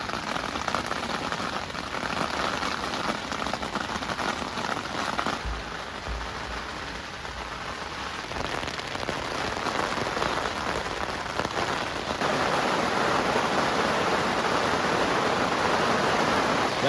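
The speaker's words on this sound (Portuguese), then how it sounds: "olha essa chuva" Heavy rain pours steadily at a lakeside campsite in Park dos Lagos, a dense, loud hiss of drops drumming on surfaces throughout, swelling slightly heavier toward the end.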